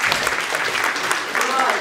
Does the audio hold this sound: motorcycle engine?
no